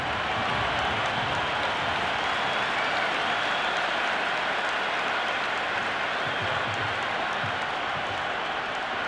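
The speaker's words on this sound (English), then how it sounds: "It's evident and ever so audible that the crowd is at near bursting point at today's play." A virtual stadium crowd in a Mumbai Indians versus Rajasthan Royals cricket video game cheers and applauds continuously, a dense, steady roar of clapping and voices at full volume throughout.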